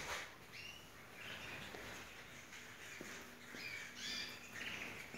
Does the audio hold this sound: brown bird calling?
yes